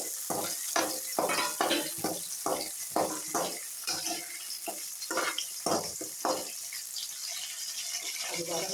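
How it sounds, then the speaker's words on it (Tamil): Onions fry in coconut oil in a kadai with a steady high sizzle. Irregular bursts of stirring or scraping come through over the first six seconds, then the frying carries on more quietly alone. "அதே கடாயில் கொஞ்சம் எண்ணெய் ஊற்றிக்கலாம் தேங்காய் எண்ணெய் கொஞ்சம் வெங்காயம்"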